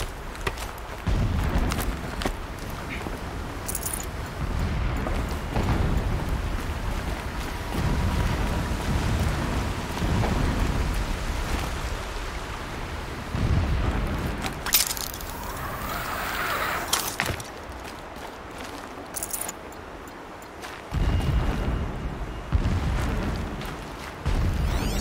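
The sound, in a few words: distant explosions in the video game Horizon Zero Dawn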